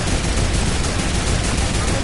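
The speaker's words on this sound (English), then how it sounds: "Why are you shooting at me," Continuous, dense rapid gunfire from a video game, loud and unbroken, with no pauses or voices.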